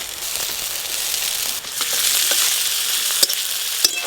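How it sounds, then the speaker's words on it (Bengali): Chopped onion sizzles steadily in hot oil with crushed ginger and garlic, a continuous bright frying hiss with occasional stirring clicks, close and fairly loud throughout. "মোটামুটি কাঁচা গন্ধ চলে যাবে এরকম করে ভেজে নেব।"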